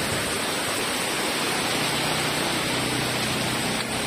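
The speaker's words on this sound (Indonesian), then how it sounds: "Wah, kita tunggu dulu aja hujannya kali ya." Rain pours steadily during a motorcycle tour in West Sumatra, a dense, continuous hiss of falling water, loud and close, with no break.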